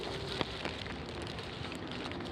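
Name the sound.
rain falling during rugby match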